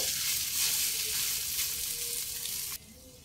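Cooked rice hits a hot pan on a low gas flame, already holding spices like cloves and white cumin, for Bengali-style fried rice; a steady, close sizzle and crackle of frying runs throughout, then drops off abruptly near the end.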